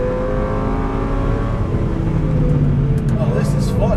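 A 2004 Lamborghini Gallardo engine drones loudly on a race track at sustained high revs from inside the cabin, steady throughout, with a driver talking over it.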